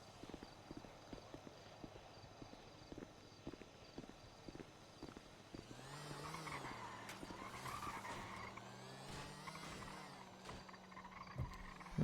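A car in GTA roleplay starts up and drives off, its engine rising and falling with tire skids, after a stretch of quick rhythmic clattering footsteps; the engine stays moderately loud and close.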